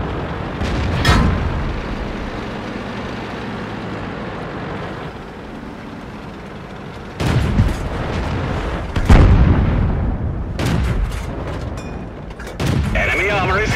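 Tank cannon shots and explosions in a video game come as several loud booming blasts at irregular intervals over low battle rumble, with a voice calling out game announcements between them.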